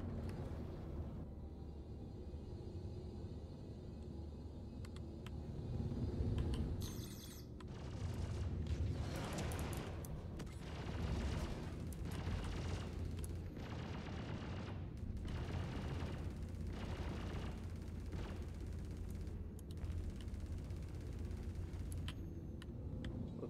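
An automated sentry gun in the space video game Star Citizen fires repeatedly at the player over a constant engine or ambient drone, its shots coming as a run of rapid, evenly spaced bursts.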